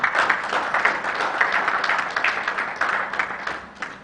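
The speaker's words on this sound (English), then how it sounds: "Please, can we have another round of applause for both of them?" A conference audience gives a round of applause, a moderate, fairly close patter of many clapping hands that stays even for a few seconds and then tapers off toward the end.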